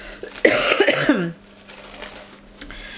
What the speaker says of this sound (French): J'en ai marre de cette toux.